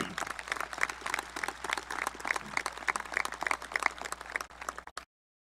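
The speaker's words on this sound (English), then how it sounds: "I just think we just need to give them another round of applause" A graduation crowd at a high school ceremony claps in a dense, fairly distant roll of applause that holds steady, then cuts off abruptly near the end.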